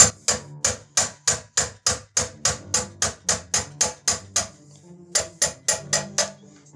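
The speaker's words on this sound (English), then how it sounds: "I'm just gonna take a rubber mallet" A rubber mallet strikes metal MG08 machine gun parts in a steady run of sharp, evenly spaced blows, pausing briefly before a second quick series, close and loud.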